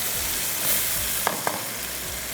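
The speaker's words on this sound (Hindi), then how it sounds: "इसको भी आप साथ साथ स्टर कर दें। तो हल्का सा भून लेंगे।" Loud, close, continuous sizzle of chicken frying in hot oil with browned onion in a pan, with a couple of brief scraping stirs partway through and no talking.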